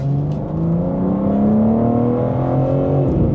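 A 2026 BMW M4 Competition xDrive accelerates steadily, engine note rising and falling through automatic gear shifts, loud and continuous from inside the car with no talking.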